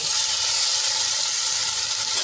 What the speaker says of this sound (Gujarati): અને તેલમાં આપણે એને સરસ રીતે સાંદળી લઈશું